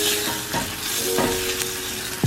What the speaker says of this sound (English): I'm just gonna keep tossing that corn